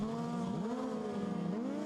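Kawasaki-engined racing sidecars at Snetterton, engine notes rising and falling as the outfits pass on track, fairly faint and distant with no voices.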